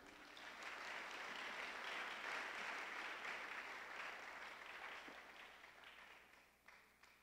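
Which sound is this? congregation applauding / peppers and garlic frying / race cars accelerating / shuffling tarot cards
congregation applauding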